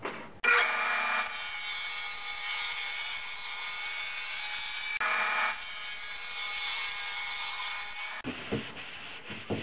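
A saw blade cutting through 2x lumber in two long, steady, loud passes of bright rasping noise, with a brief break between them and a few lighter knocks at the end.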